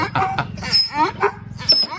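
A squeaky rubber chicken dog toy squeezed repeatedly as a donkey plays with it, giving a run of loud, close, high-pitched squeals and squawks in uneven bursts.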